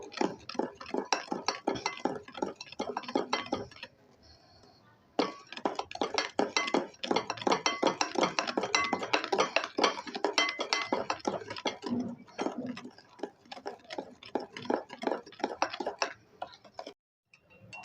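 Coffee cake batter being stirred in a bowl, with a spoon clinking quickly and rhythmically against the sides, close and steady, pausing briefly near four and seventeen seconds.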